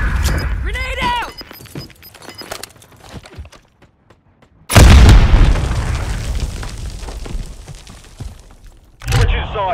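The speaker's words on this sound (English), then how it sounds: "Grenade out!" A grenade blast in the Call of Duty Modern Warfare 3 Cutthroat mode on the Favela map, a sudden loud boom with a rumbling tail and a second burst near the end, after a spoken call-out.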